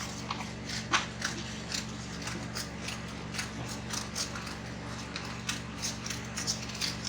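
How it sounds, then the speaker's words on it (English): Quiet scissors snip and crunch through a paper sewing pattern for petal sleeves in a series of short cuts over a low steady hum. "I'll take my scissors and cut out this pattern"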